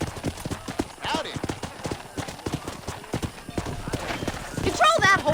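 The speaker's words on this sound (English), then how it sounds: "Control that horse, will ya?" Horse hooves clip-clop steadily in a Western video game, a quick rhythmic patter of hoofbeats running throughout beneath a man's speech, with a whinny-like burst near the end.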